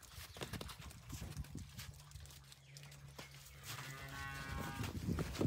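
Cows moo in a farm shed, several drawn-out lowing calls rising over steady barn background noise, with hoof clops and a louder call near the end.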